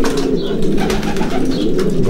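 Racing pigeons in their loft after returning from a 340 km race from Torgau, cooing steadily and close by in overlapping murmurs, with occasional faint chirps and rustling.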